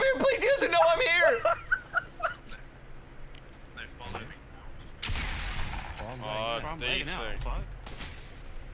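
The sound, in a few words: gunshots in the video game Fortnite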